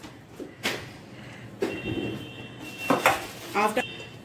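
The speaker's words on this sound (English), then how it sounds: "First, take some rice in a bowl and crush it with your hands." Rice being crushed by hand in a bowl while preparing tikki for rajma tacos, heard as soft scattered rustles and clinks of grains and dish against a quiet kitchen background, with a few sharper knocks near the end.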